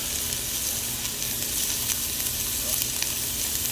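Onions or food sizzle and crackle steadily in oil in a hot cast-iron Dutch oven set over campfire coals while clams are cooked, a continuous close frying hiss with faint stirring.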